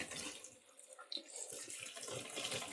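Hot water gushes from a bath tap at about eight litres a minute with a steady splashing rush. The flow surges and wavers in level, and faint handling noises sit underneath.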